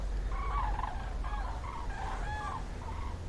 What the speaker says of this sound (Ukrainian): Все літають качечки.